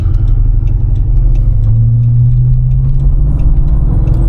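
A Chrysler car engine rumbles loud and close, building in a rising pull under hard acceleration, heard from inside with no talking.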